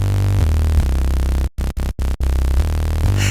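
In Serum 2, a dirty synth bass built from a sine wave with noise volume oscillating alongside it and a layered sub-sawtooth plays a loud, buzzing pattern of held notes broken by several sharp rhythmic gaps, with no talking.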